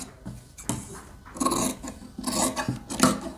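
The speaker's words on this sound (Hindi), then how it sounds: "अब हम थोड़ा कपड़ा छोड़कर एक्स्ट्रा कपड़े की कटिंग करेंगे।" Scissors snip through extra fabric while tailoring a kurti neck, giving a few close, rasping cuts in short bursts with pauses between, and no talking.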